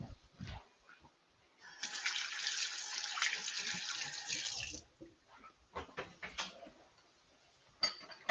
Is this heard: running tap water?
yes